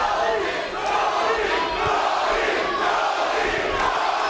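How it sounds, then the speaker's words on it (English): A boxing crowd in a loud, continuous wall of yelling and cheering, chanting for the fighter Tony at ringside, dense and sustained without breaks. "Crowd yelling Tony"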